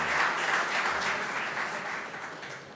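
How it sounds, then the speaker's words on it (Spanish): An audience applauds actress Amelia Brea during an award recognition, with dense, steady clapping that fades slightly toward the end. "Un aplauso, Amelia, actriz."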